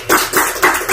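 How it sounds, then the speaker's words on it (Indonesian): Four crisp bursts of hand clapping in a steady rhythm, close and loud, with no talking over them. "Tepuk tangan untuk kita semua."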